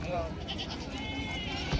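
Goats bleat amid the crowd noise of a busy rural goat market, with a wavering bleat rising over steady background chatter and bustle.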